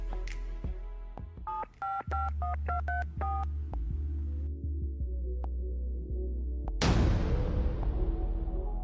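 A mobile phone in a Korean dubbed game plays a quick run of keypad dialing tones against a low hum, then a sudden loud rushing burst near the end.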